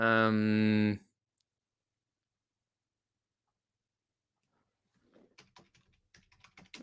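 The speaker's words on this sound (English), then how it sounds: "I'm just typing something in." Fingers type on a computer keyboard in a quick run of close, light keystroke clicks near the end, after a brief voice at the start and a few seconds of silence.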